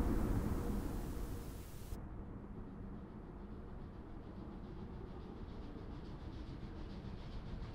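A TT scale model railway passenger train runs on a main line, giving a steady, fairly loud rolling rumble with faint rhythmic rail clatter that continues evenly throughout.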